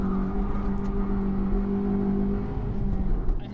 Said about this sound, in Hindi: और हम निकल भी गए। ये इतनी फास्ट एक्सेलरेट होती है।